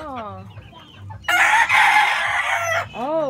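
Roosters crowing and hens clucking in a backyard, with soft clucks giving way to one loud, sustained nearby crow and another crow starting at the end.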